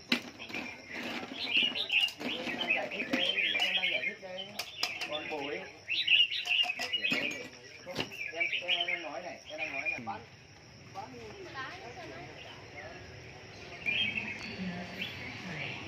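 Many caged birds chirp and tweet at a bird market. Pigeon coos and a few wingbeats are mixed in, with people talking over the birds throughout.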